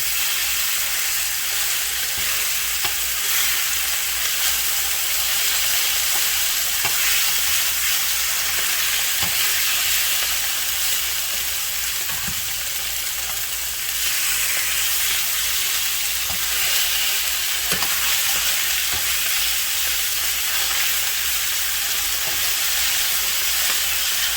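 Chicken pieces sear in a hot pan of grease, not overcrowded, giving a steady, dense sizzle and crackle that runs unbroken throughout, close and fairly loud, with no voices over it.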